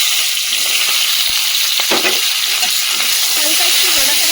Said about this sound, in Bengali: কড়াইতে যে পরিমাণ তেল আছে সেই তেলের মধ্যে এই যে কেটে ধুয়ে রাখা সিমগুলো দিয়ে দেবো।